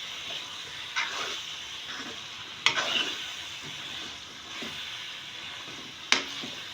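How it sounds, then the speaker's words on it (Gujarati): A spoon stirs cabbage curry with garlic and chilli in a kadai, giving soft scraping strokes and a few sharper clinks against the pan over a low, steady frying sizzle. "આવી રીતે સતત હલાવતા રહીશું જેથી આપણું શાક જે છે એ કડાઈ પર નીચે ચોંટી ન જાય"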